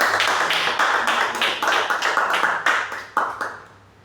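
A church congregation claps steadily together during a Sunday service, a dense, rhythmic patter of many hands that carries on and then thins out toward the end.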